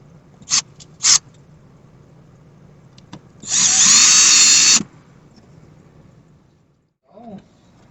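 A power drill whirs at close range for about a second while installing interior lights in an RV, preceded by a few sharp clicks and followed by a faint murmur.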